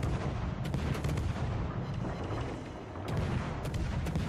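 Naval artillery salvos in the World of Warships battleship game, including the Yamato and the French cruiser Colbert, boom repeatedly at a loud, heavy level, with several blasts layered into a dense roar.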